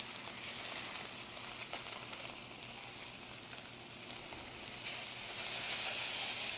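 Red snapper frying in a pan for a Thai sweet and sour dish, a steady bright sizzle and hiss that holds throughout and grows a little louder toward the end, with no voices.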